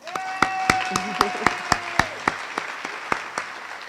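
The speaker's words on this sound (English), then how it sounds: "Let's applaud for that." Audience applause at the Prince George's County youth partnership launch, heard as a steady run of sharp, rhythmic claps roughly in unison, with sustained tones and faint voices underneath.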